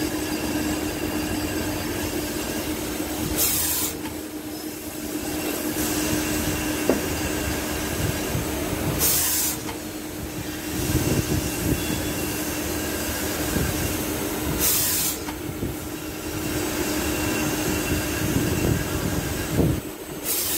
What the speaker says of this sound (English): Helical groove left side chamfer.